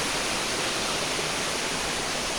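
Waterfall at Cabangan, Zambales, near Mt. Nabuhe, a dense, steady rush of falling water heard up close with no break.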